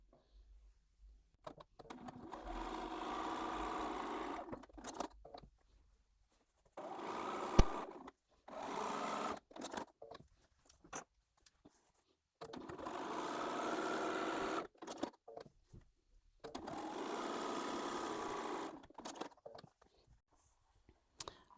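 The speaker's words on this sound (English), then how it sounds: "I'm going to sew down the centre of the drawn line" A sewing machine stitches a quilt block along a drawn line, running in several steady whirring bursts of a few seconds each, separated by pauses with small clicks and handling noises.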